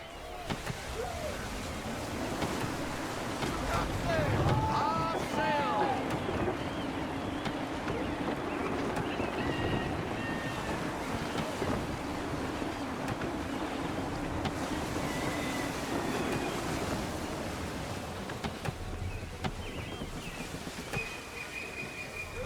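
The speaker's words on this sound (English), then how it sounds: "Gusty winds can be difficult to manage." Steady gusty wind rushing over open sea in Assassin's Creed 3, a broad continuous roar with wave wash and creaking ship sounds, loud throughout with faint distant voices beneath.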